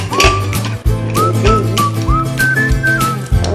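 A pressure cooker on a gas burner, cooking rice, hisses loudly and steadily with repeated rising whistle tones throughout, heard up close with no voices.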